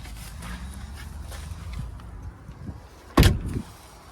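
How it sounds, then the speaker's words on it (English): A single solid door slam on a 1958 Studebaker Commander, near and loud, over a low steady rumble of background noise. "Door closes good."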